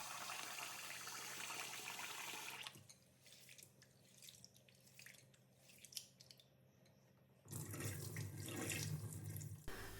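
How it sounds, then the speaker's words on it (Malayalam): Finger millet (ragi) rinsed in water under a running tap, a loud gushing stream at the start and end with quieter sloshing, dripping and squishing of grain in between, close by with no talk. "ഇനി നന്നായിട്ട് തന്നെ ഇതൊക്കെ ഒന്ന് കഴുകിയെടുക്കുക"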